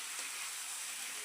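Fried jackfruit being stirred through spiced chili masala in a hot pan, a soft, constant sizzle and frying hiss, faint and close, with no voices.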